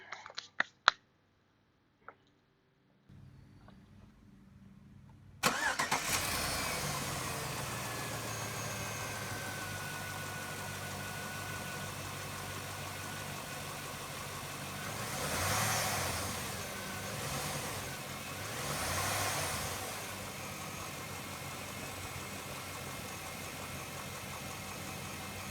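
A Chevy Trailblazer engine cranking and catching after an air filter replacement, then settling into a steady rumbling idle with a few gentle revs swelling and fading, close and clear with no talking.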